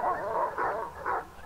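A dog barks and whimpers in the video game Silent Hill Downpour, three close, tonal yelps in quick succession with no talking.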